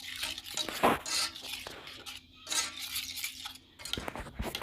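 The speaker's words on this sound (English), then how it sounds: "Gonna give it a slight stir" A utensil scrapes and clinks in a pan of corn with oregano and butter, giving a few gentle irregular stirs at moderate volume with soft sizzling underneath and no talking.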